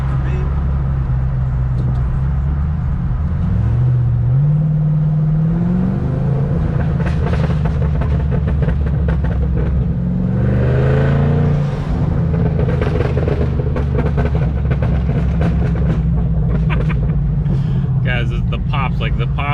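A car engine revs repeatedly, rising and falling in pitch with a loud, close rumble, while the exhaust crackles and pops in scattered bursts, especially toward the end.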